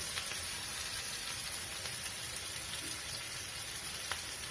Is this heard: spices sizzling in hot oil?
yes